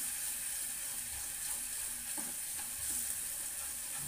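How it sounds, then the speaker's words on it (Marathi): Chutney with Malvani garam masala is sautéed in oil in a pan, a constant hissing sizzle with a few quiet stirring knocks, low in level, and no one speaks. "चटणी चांगली तेलामध्ये परतून घ्यायची."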